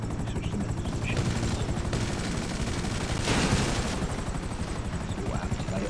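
Machine gun fire in the space shooter game Defend Titan, rapid continuous bursts blending into a loud droning engine rumble, with a denser volley a little past the midpoint.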